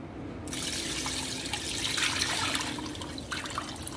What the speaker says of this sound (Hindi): इसमें मैं 15 कप पानी डालूँगी।